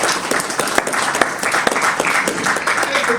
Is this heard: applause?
yes